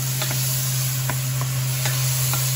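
Garlic, onion and mushrooms sizzle steadily in a hot pan, a constant close frying hiss with a few soft stirring clicks scattered through it.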